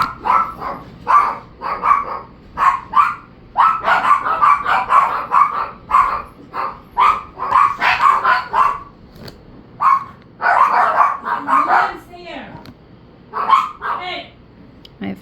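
Several dogs bark outdoors in repeated bursts, close and loud, with yips mixed in and short pauses between volleys, continuing for many seconds.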